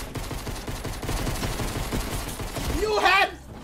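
Shotgun blasts in Fortnite crack through busy, dense game noise and talk, with a louder burst of shots near the end.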